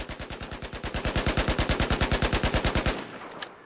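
SAR-21 rifle with a recoil compensator in Battlefield 4, firing one steady full-auto burst of about two dozen rapid, evenly spaced loud shots for roughly three seconds, then stopping with a brief fading tail.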